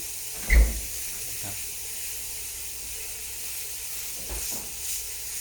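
Beef steak sizzling on an electric grill, a steady soft hiss with a couple of brief clanks and knocks as the meat is handled.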